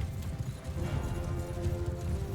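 Horse hooves clop steadily in Mount & Blade II: Bannerlord, a fast running rhythm of many hoofbeats amid continuous battle noise and low rumble.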